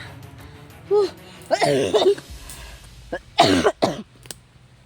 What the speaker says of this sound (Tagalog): Inuubo pa ako ng husto.